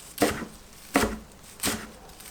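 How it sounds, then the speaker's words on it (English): A knife chops through cilantro on a board in three distinct, evenly spaced strokes, each a short crisp thud close to the listener, with quiet between them. "After your onion, you want to chop up your cilantro"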